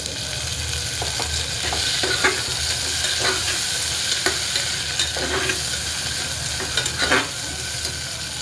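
Two tomatoes dropped into hot oil with coriander in a pan for masala rice, a steady sizzle and hiss under repeated scraping stirs with a utensil, close and continuous.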